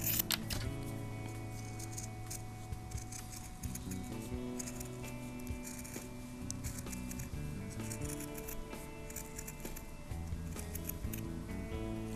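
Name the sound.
cutting with large scissors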